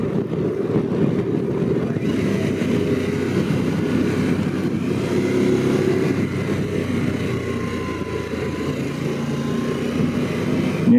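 A Harley-Davidson Pan America 1250 motorcycle being ridden through bends, its engine giving a steady, loud, continuous rumble with wind noise close to the rider, and no talking.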